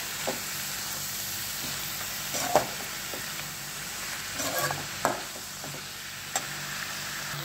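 Cabbage sabzi cooks in a pan with a soft continuous sizzle, broken by a few occasional clinks and scrapes of stirring, close and with no talk.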